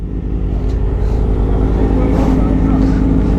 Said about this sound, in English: I just revved the shit out of it.